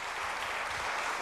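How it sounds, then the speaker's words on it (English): Audience applause for a band at a 2012 international festival: a brief, dense burst of many hands clapping together, steady and loud throughout. "Round of applause."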